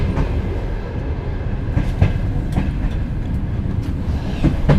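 Steady rumbling of a passenger train riding on the railway toward Ivano-Frankivsk, heard from inside with rhythmic clickety-clack of wheels over rail joints and constant low roar, no talk.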